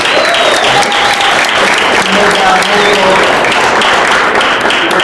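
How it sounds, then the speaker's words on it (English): Sustained, loud applause from a luncheon crowd of adults at Vazzy's 19th Hole, dense clapping filling the whole stretch with a few voices and cheers mixed in. "Let's give her a round of applause."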